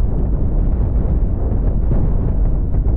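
Continuous heavy rumbling blasts from a space battle in the game Cosmoteer, dense overlapping booms of ship cannon fire and explosions that stay loud and steady throughout with no talking.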